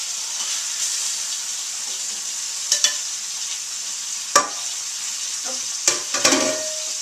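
Beef pot roast sears in hot oil in a pan, a soft continuous sizzle broken by a few sharp clatters and scrapes of tongs moving the meat near the end.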